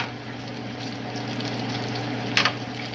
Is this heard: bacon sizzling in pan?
yes